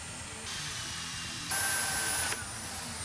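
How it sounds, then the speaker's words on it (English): A steady whining drill bores into a metal drain plug on an old Soviet KMZ Dnepr 10-36 boxer engine, running continuously, rising in pitch and intensity midway, then easing back, with a constant hiss and hum beneath. "And I was compelled to drill again."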